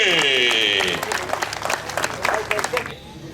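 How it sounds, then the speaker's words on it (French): Crowd applause at the St-Raymond forestry festival for a competitor, a dense outdoor patter of clapping that rises after a sustained tone fades and then tapers off near the end. "Une bonne main d'applaudissement à notre deuxième concurrent, Emmanuel Gagné"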